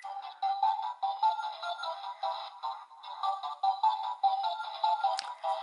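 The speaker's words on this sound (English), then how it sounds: "it's just this ringtone, which I actually do like" DX Faiz Phone X toy phone playing its ringtone, a bright, tinny electronic melody of repeated short beeping phrases from a small speaker, looping steadily with a brief click near the end.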